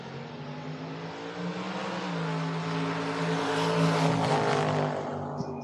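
A Chevrolet Camaro drag car accelerates hard down the strip, its engine roaring loud and steady as the pitch climbs, with no talking.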